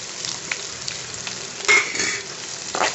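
Chopped onions sautéing in a pan, added after mustard seeds and curry leaves for a garlic powder rice, give a steady close sizzle with occasional stirring scrapes and a louder burst of frying partway through.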